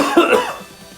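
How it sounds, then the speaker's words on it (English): A single close cough from someone recovering from a viral illness: one sharp, loud burst followed by a short rasping tail that fades over about a second. "you still have like a small cough"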